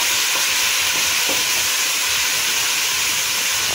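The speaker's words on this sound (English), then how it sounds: "I'm just gonna make that fry a little bit before I actually add in my okra." Oil sizzling and hissing steadily in a pan while the base for Jamaican brown stew fish fries before okra goes in, a close, continuous frying sound with no talk.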